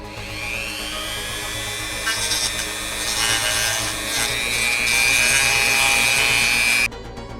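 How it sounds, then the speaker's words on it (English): A Dremel rotary tool grinds slowly on a radio's circuit board during final transistor replacement in an Icom IC-706MKIIG transceiver, making a steady high whirring rasp that rises in intensity before cutting off abruptly near the end. "I went slow with the Dremel tool"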